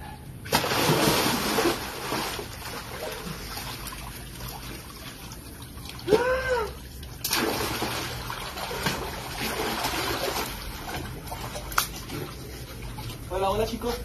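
Dip into a filled backyard pool, with scattered splashes and trickling water, some louder bursts around the middle, while people talk throughout.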